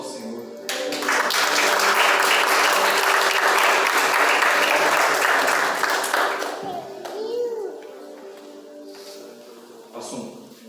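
A church congregation claps loudly and continuously for about six seconds, then fades into scattered claps and voices with a few tones in the room.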